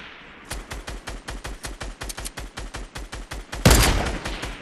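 Gunfire in a battle royale video game: a rapid, steady automatic burst of around twenty sharp, evenly spaced shots, loud and close, ending in a heavier, louder blast with a ringing tail.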